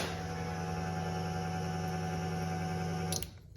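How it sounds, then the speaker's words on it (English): A steady electric hum from a fuel pump installed in a square-body truck runs continuously with the gas tank nearly empty and the cap open, then cuts off abruptly near the end. "The reason why it's noisy is there's almost no gas in this tank"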